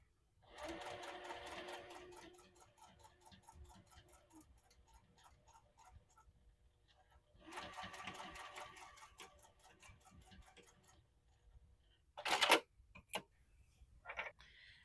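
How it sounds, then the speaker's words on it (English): A sewing machine stitches a leather wallet pocket in two bursts of rapid, even needle clatter with a pause between, followed by a few sharp clicks and knocks as the machine is adjusted. "I'm going to start at the top and sew down"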